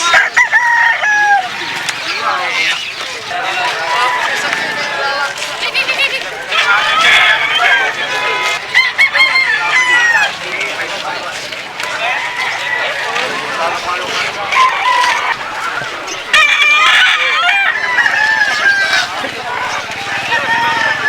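Roosters crow loudly and repeatedly over clucking chickens, with people talking throughout in a busy, noisy animal market.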